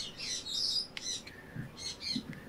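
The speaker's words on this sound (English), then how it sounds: "But their screeches are... Oh, the birds. Their screeches are horrific." High, harsh bird screeches from Yoshi's Woolly World video game, several shrill squawking calls in bursts with short gaps, fairly close and loud over faint game background.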